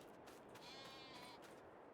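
Sheep in the Farming Simulator 22 video game bleat faintly against a steady hiss of background noise, a few short calls heard in quiet game audio, with no talk.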